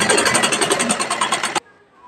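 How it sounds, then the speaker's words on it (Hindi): Close and loud, a sewing machine stitches a blouse in a rapid, rhythmic whirring burst that stops abruptly, leaving near silence. "अब एक बूट की सिलाई लगाकर अब इसको पलट देना इधर, फिर एक बूट की सिलाई लगाना।"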